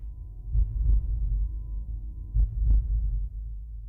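Low, deep double-thump pulses recorded from the Earth's vibrations, heartbeat-like, with two strong beats near the start and two more later over a steady low rumble.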